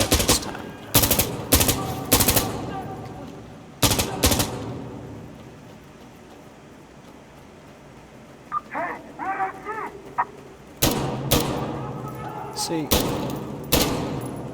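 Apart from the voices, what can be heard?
gunfire in the video game Insurgency Sandstorm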